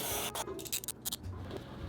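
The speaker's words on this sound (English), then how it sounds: "Go ahead and spray some CRC in there." Short hissing bursts of CRC contact cleaner sprayed into the controls of a Pioneer SX-550 receiver, a few quick squirts in a row with faint rubbing and handling noise between them.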